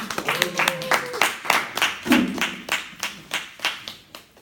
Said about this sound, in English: let's give a clap for